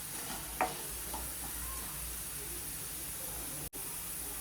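Potatoes sizzle gently in a pan for an okra-and-potato curry, with faint steady frying hiss and a couple of soft stirring scrapes early on, no voices.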